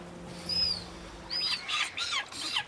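A rescued silver gull, a long-term patient at a wildlife care facility, gives a few short, high calls in bursts, fairly close but not loud, with no voices over them.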